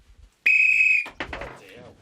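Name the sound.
referee whistle blown to start the game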